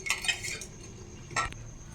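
A metal lid clinks down onto a cooking pot of dum aloo potatoes in masala, two quick close rattles of metal on metal with a soft bump, heard alone.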